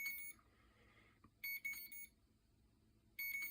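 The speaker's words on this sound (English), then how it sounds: "So maybe it's just beeping because it's got no ground" A rebuilt drone with no ground signal gives off short, high electronic beeps, three separate bursts alone with a low background hum between them, fairly faint.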